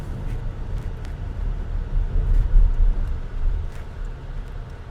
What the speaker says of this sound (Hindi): कितनी ट्रैफिक जाम है यहाँ और गाड़ियाँ आगे से इस तरह से जा रही हैं